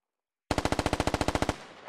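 Automatic gunfire in the video game SquadOps breaks out after a moment of silence as a rapid, even burst of about thirteen loud, close shots, then cuts off and leaves a short fading tail.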